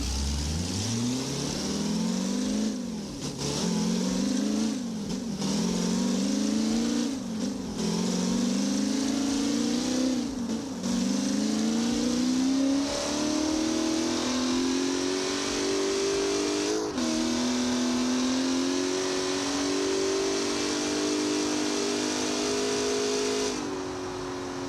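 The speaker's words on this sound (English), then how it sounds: "So let's fire it up, and let's get started here." A C5 Corvette Z06 engine in BeamNG.drive revs on a dyno, a loud, continuous simulated engine note that climbs in pitch in repeated surges, dips between pulls, then holds a steady high drone near the end, with no talking.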